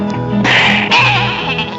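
A goat bleats loudly in a children's song, a long wavering cry over a background of musical accompaniment, swelling in two close bursts.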